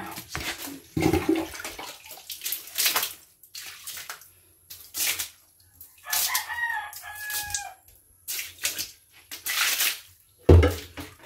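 Water is poured from a bucket in a small bathroom in several separate splashing bursts with short pauses between them, while a rooster crows clearly in the background partway through.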